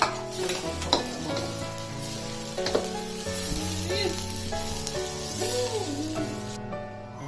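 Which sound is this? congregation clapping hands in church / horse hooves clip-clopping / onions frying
onions frying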